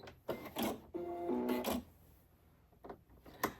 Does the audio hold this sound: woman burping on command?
no